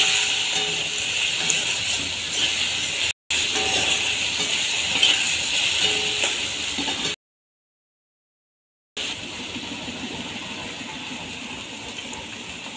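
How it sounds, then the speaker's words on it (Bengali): Potato and eggplant pieces sizzle steadily in hot oil in a pan on a gas stove, a continuous bright hiss broken by two short cuts to silence. "তো আলু বেগুনটা ভাজতে থাকি, একটু ভেজে নেব আলু বেগুনটা।"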